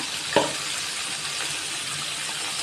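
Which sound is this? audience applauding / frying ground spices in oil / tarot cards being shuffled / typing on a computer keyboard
frying ground spices in oil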